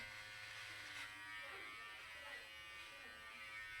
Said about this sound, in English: the buzz of the hair can be very soothing if you like that kind of low vibration noise